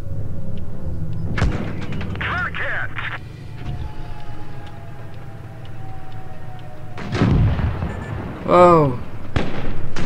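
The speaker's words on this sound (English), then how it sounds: "Oh, he's firing at me from all the way over there." Tank cannon fire in World of Tanks Blitz, with a heavy boom and metallic impact noises over a continuous engine rumble, plus whining electronic effects, close and loud, with a brief spoken exclamation.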